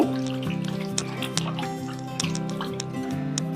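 Washed, soaked poha draining in a home kitchen, water dripping and trickling in irregular close drops over a steady low tonal hum, with no talk.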